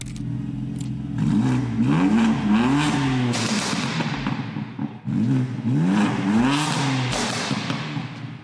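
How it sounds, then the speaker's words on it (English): A 2023 BMW M3 fires up with a sharp starter burst, then its exhaust roars and revs loudly in two rising pulls before settling back, close and alone with no talking. "let's hop in real quick and let's hear this thing start"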